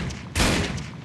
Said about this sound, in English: I'm shooting a light